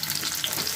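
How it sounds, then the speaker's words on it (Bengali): Chopped potatoes go into hot oil over lightly fried chopped onion, sizzling loudly and steadily throughout this short moment of wheat-flour noodle cooking, with no voice. "এর মধ্যে দিয়ে দেবো কুচনো আলুগুলো।"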